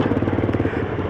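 Motorcycle fitted with a loud free flow exhaust, riding in the city, a close, rapid rhythmic engine thump with heavy low-end pulses and no pause.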